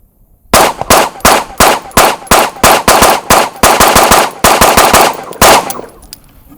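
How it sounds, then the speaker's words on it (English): A 2011 pistol fires at an outdoor shooting range: about fifteen loud, close gunshots in quick uneven bursts over roughly five seconds, each a sharp crack with short ringing decay, with no talking. "So we can take a couple shots, compare it to the other ones"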